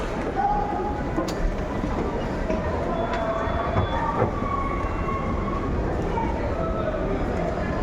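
Busy rail station ambience at Jerusalem Central Bus Station: a low rumble of trains and crowd murmur, with faint squeals and tones drifting over the continuous background.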